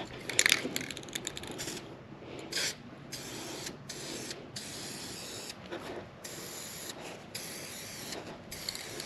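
Spray paint is applied to a PVC handle in bursts: the can hisses in short and longer sprays with brief pauses between, close and fairly quiet, with some faint rattling at the start.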